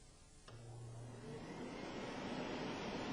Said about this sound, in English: let's narrow down the mouth of the tube to speed up the airflow and see what happens when we try it again.